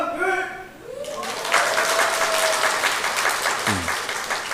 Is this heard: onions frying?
no